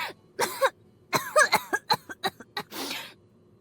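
A woman coughs hard and repeatedly in a rapid, choking fit, with strained gasps between harsh bursts, close and loud.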